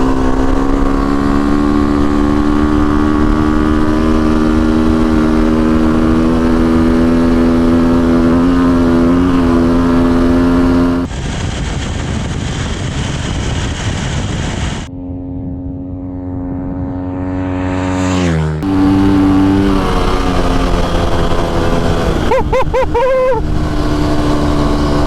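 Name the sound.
KTM 350 SX-F dirt bike engine while riding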